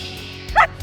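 A young puppy being trained as a family protection dog gives a single short, high yip-bark, close and clear over quiet background noise.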